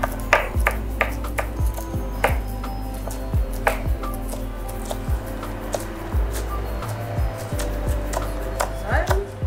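A knife chops food on a cutting board in a quick, irregular series of sharp taps, close up and clear, with no talking.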